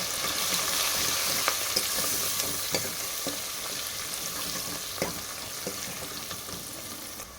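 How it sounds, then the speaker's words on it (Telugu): Turmeric being stirred into dal in a pan with curry leaves, a continuous frying sizzle broken by light clicks and scrapes of a spoon; no talking. "అర టీ స్పూన్ పసుపు వేసి కలిపేసేయాలి"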